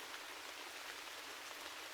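Rain falls in a steady, even hiss, a dense wash of drops continuing unbroken with no voices.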